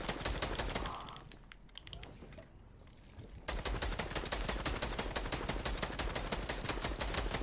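Dense, sustained automatic gunfire in the video game Fortnite, loud and continuous at first, breaking into a quieter lull with scattered sounds, then resuming as a steady, rapid stream of shots.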